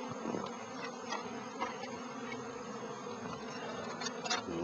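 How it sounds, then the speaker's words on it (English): Steady, dense buzzing of many honey bees flying around close by after their hive is moved, a continuous droning hum with no voices. "the bees are all confused. See, they're flying around"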